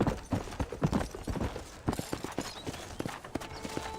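Horse hooves clip-clop steadily in the Red Dead Redemption remaster on PC, a fast, even run of close, fairly loud footfalls that eases into a slower walk, with faint game ambience behind.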